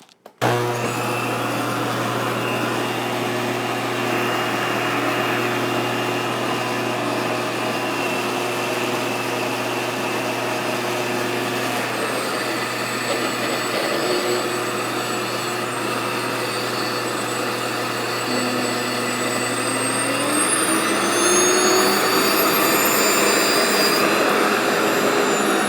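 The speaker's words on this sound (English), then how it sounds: "Through one more time, this time we'll do a finer grind" A Nutri-Mill Plus electric grain mill runs a fine grind on about a cup of grain, producing a loud, steady motor whine that drones without pause and shifts slightly higher in pitch toward the end.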